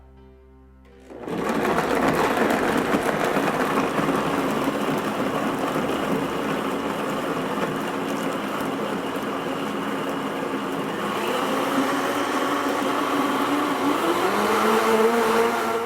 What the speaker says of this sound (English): hit this button right here, the very first one, which is our smoothie pre-programmed cycle. It's gonna start low and go high and blend for 40 seconds.